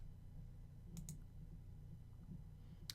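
A couple of soft computer mouse clicks, faint and close, separated by quiet room hum with no talking.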